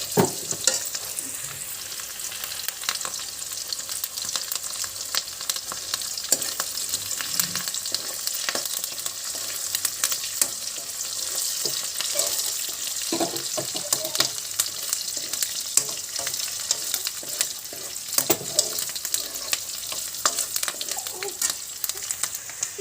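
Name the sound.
fenugreek seeds and curry leaves frying in a pan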